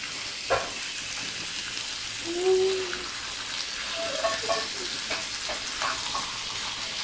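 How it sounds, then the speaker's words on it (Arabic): Sliced chicken escalopes fry in oil and margarine in a pan, giving a continuous bright sizzle with occasional soft scrapes and bubbling pops, close and even throughout. "نبدا نقلي في لي ترونش تاعي هكذا"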